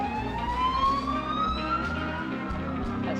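Police car sirens in the nosedive video game, a wailing tone sweeping slowly upward, heard at moderate volume over a low, steady background rumble.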